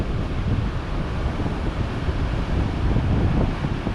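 Strong wind batters the microphone beside a sea whose big waves have flooded a road, a heavy, continuous low rumble and roar with the surf blurred into the gusts, loud and close throughout.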